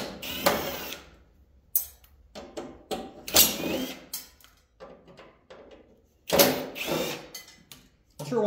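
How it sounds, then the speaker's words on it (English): Screws being removed from an air conditioner casing with a power driver, several short whirring bursts separated by quiet pauses and small clicks and rattles of parts. "Find some more screws to take off."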